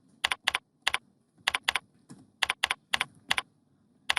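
Someone types on a computer keyboard in a quiet room: sharp, clicky keystrokes come in small uneven bursts, close and clear, with short pauses between groups and no talking.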